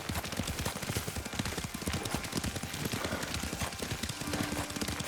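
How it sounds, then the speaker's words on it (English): Galloping horse hooves pound in a fast, steady clip-clop while riding in Ghost of Tsushima, loud and close, with a bright, noisy wash layered over the rhythm. "Lord Sakai taught me to ride a horse"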